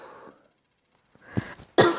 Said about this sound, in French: J'ai toussé, je sais pas si vous l'avez entendu.